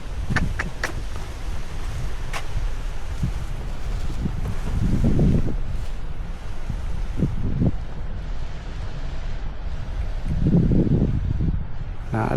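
Strong gusty wind sweeps across a garden of bitter gourd vines on a trellis, a steady loud roar with rising gusts and rustling, while a person talks briefly in places.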